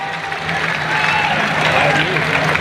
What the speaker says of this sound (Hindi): एक बार जोरदार तालियां बजा करके हम सब स्वागत करते हैं।